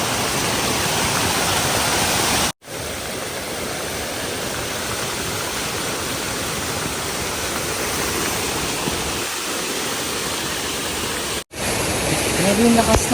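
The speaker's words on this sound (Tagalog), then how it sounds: "Grabe yung lakas ng ulan." Heavy rain pours down steadily in a dense, loud hiss on a mountainside with an overflowing irrigation channel, cutting out briefly twice.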